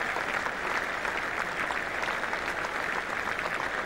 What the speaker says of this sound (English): a heavier applause, of course, for the 100 coming up